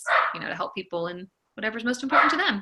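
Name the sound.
dog barking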